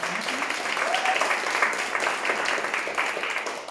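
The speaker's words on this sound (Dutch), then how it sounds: "Geef haar nog een applaus." Audience at a poetry slam in a Rotterdam reading room breaks into sustained applause, a dense wash of clapping that holds steady and tapers slightly at the end.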